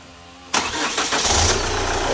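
A Chevrolet Captiva diesel with a hard-starting fault cranks and fires up abruptly, then settles into a loud, rough close-up idle with some rattle.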